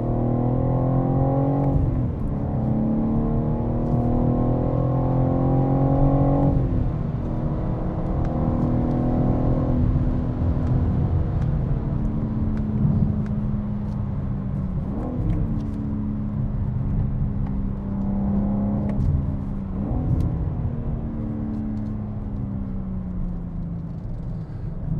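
A BMW M4 engine drones loudly and steadily through a lap of the Nurburgring, its pitch climbing under acceleration, then dropping sharply at gear changes and braking before rising again, heard from inside the car with no talking.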